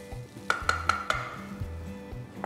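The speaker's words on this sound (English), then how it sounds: "Stir this." Golden-brown fried onions and chopped green chillies are stirred in a pan, a soft sizzle under several sharp clinks of a utensil against the metal, close and fairly quiet.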